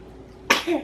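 A single short, sharp sneeze from a baby boy, quick burst then a brief breathy tail.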